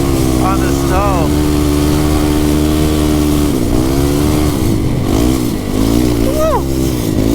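An ATV on rubber tires without studs rides a snowy closed trail, its engine droning loud and close with steady low harmonics and a few rising revs, while a voice talks over it.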